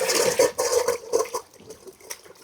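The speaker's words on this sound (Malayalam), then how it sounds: "ഞാൻ കഴുകട്ടെ, പാത്രം ഒന്ന് കഴുകി കൊടുക്കാം." Water splashes and runs while a plate is rinsed clean in a home kitchen, with pulsing gushes that thin out into quieter trickles toward the end.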